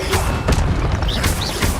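Incendio fire spell cast in Hogwarts Legacy, a loud booming burst of flame with rumbling low thuds and a few sharp magical whooshes, dense and close throughout.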